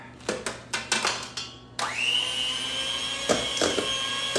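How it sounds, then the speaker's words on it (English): A few clattering knocks, then an electric mixer whirs up to a loud, steady high-pitched drone with occasional bumps, close by, while mixing cheesecake filling. "Now the mixer."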